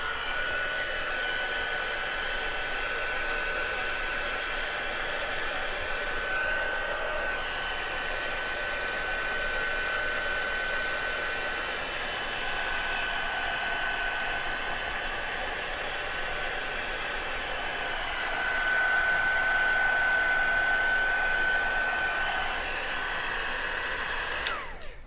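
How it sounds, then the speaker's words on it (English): A heat gun blows steadily close by while drying pigment ink on paper, a loud continuous whooshing roar with a faint whine that swells slightly near the end before cutting off. "use my heat gun to speed it up a little bit"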